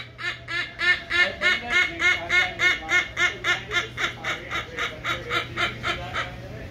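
A silvery-cheeked hornbill at the Tampa zoo gives a long series of loud, rhythmic, cackling honks, about three per second, nearby and fairly steady over a low hum.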